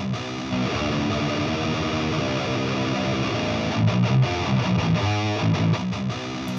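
A heavily distorted electric guitar plays a continuous riff through a Shure 57 and an Austrian Audio OC818 miked together close to the speaker cabinet, giving a thick, loud, steady tone.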